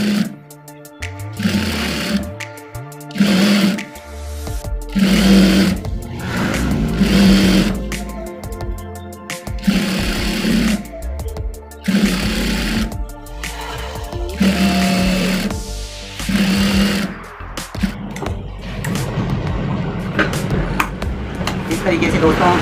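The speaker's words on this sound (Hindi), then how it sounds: "इस तरीके से सिलाई लगा लेनी है" A sewing machine stitching fabric for a pant grip runs in repeated bursts of rapid mechanical whirring, loud and close, with short pauses between runs and a person speaking in between.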